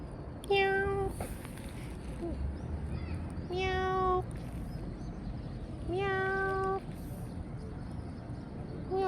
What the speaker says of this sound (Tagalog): Ang daming pusa oh